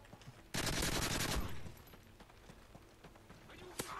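A video game gun opens up in one loud, close burst of rapid automatic fire lasting about a second, then drops back to quieter game sounds and a faint single crack near the end.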